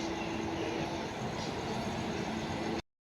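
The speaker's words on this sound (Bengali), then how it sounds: "এখানে আর একটা ট্রেন চলে এসছে," A train with a double engine pulls into a station, its steady, broad rumble filling the scene up close at an even level before cutting off abruptly.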